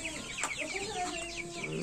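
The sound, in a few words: broiler chickens clucking in a chicken coop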